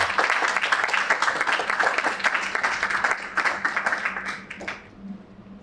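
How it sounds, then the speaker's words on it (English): An audience applauds after a debate, dense sustained clapping that holds steady for several seconds and then thins out toward the end. "Can I get a round of applause for both of our"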